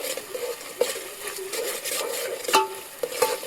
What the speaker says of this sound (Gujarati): આપણે ઢોકળીનું શાક બનાવવાનું છે એટલે મસાલાનો બધો વઘાર મારી દીધો છે